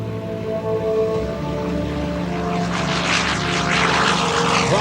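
The radial piston engine of a WWII FG-1D Corsair fighter drones steadily at an air show, then swells louder and rougher as the throttle comes forward, a sustained propeller roar heard from a moderate distance.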